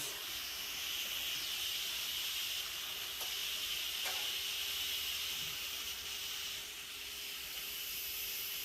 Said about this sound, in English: Okay, that's still depressurizing.